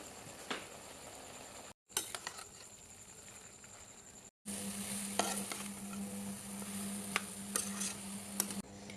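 Potatoes and radish with ginger-garlic paste sizzle in a little hot oil in a pan while being stirred, a steady frying hiss broken by brief gaps and occasional scraping clicks of a spoon, close and moderately quiet.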